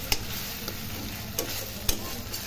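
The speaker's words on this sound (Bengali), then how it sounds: "ভালো করে ফ্রাই করবো। সেটা ভালো করে কষাবো।" Masala being stir-fried in a pan for a mutton dish: a steady, fairly quiet sizzle with a few sharp scrapes of the spoon against the pan, no talking.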